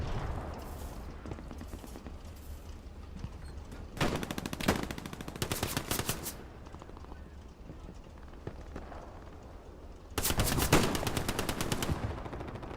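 Machine gun fire in the World War II shooter game Hell Let Loose, heard as several bursts of rapid automatic shots, some distant and muffled, others loud and sustained near the end, over a low battlefield rumble.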